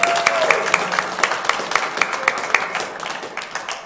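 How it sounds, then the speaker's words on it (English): A brass band club audience gives a round of applause in a concert hall, dense, loud clapping with distinct sharp hand strikes, steady then tapering slightly. "So another round of applause for the fact that he runs our training band."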